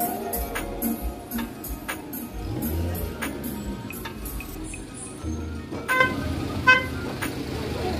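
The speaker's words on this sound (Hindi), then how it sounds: "देखो बहुत ज़्यादा ट्रैफिक है।" A busy Christmas Eve street in Rose Hill, Mauritius, carries a steady traffic rumble with repeated short car horn toots and beeps near and far, under crowd chatter and voices.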